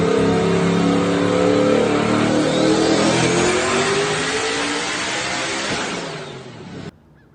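Turbocharged Camaro making a full-throttle pull at about 40 psi of boost, a loud sustained roar rising in pitch for several seconds before the engine cuts off abruptly.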